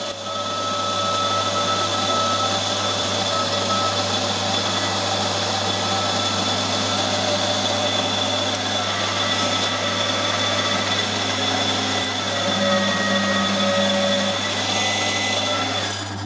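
A metal lathe turns at 1200 RPM with a carbide cutting tool, giving a loud, steady machine drone and a constant hum with faint shifting whine, sustained and close throughout, with no voices.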